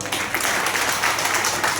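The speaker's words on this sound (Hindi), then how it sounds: "इनके लिए ताली बजाइए" An audience at a nutrition training session claps briefly, a moderately loud patter of many hands with individual claps audible through the wash, continuing steadily for a couple of seconds.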